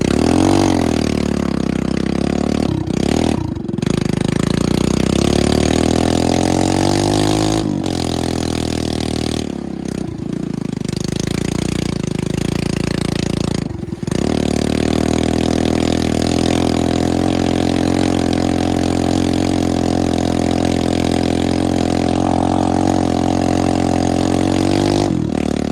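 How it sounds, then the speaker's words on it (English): A four-gear motorcycle engine runs loud and close while riding, a sustained droning roar with several brief dips where the revs drop between gears, no voices. "This motorcycle has only got 4 gears"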